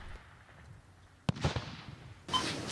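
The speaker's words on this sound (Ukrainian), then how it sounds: "Вибухи, постріли, десяток поранених, яких виносять з поля бою" Blasts and shots during a military field hospital drill: one sharp bang, a short cluster of pops and another loud burst, close and sudden over quiet background noise.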